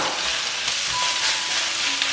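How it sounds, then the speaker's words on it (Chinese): Rice with egg is stir-fried quickly in a hot wok, giving a steady close sizzle with faint scraping of a spatula, unbroken by any voice. "快速翻炒。"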